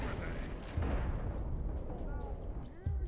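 Deep booming blasts and rumbling in the Borderlands 2 video game, layered with ongoing gunfire and low roar, loud and dense throughout, with voices in the game audio.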